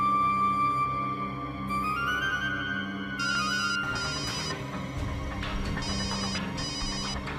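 A phone ringtone plays continuously, a bright electronic melody with repeating chiming tones, close and clear with no talking.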